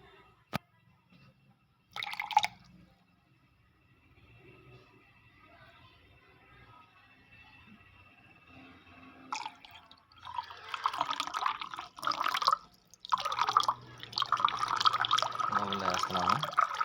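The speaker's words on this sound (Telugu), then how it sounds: "ఇప్పుడు ఆ వాటర్ ఆ బౌల్లోంచి ఇందులో వేస్తాను." Water poured from one bowl into another while making a blue butterfly-pea flower drink, a soft trickle and splash that grows steadier near the end after a few faint clinks, close by and moderately quiet.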